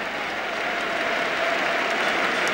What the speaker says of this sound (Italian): Arrivano comunque gli applausi, li sentite da parte del San Nicola.